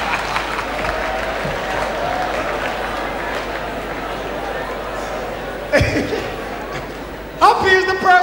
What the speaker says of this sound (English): it's interesting to see who clapped for which sentence